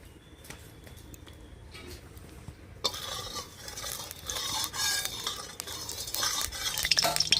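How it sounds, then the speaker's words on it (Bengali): Mustard oil crackles and sizzles in a hot wok, growing louder and busier after a few seconds, with faint clinks of a utensil. "কড়াই গরম হয়ে গেছে এবার দিয়ে দেব সর্ষের তেল"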